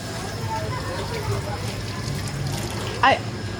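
Running water splashes in a steady hiss as someone washes one hand, with a voice talking over it and a brief louder splash near the end.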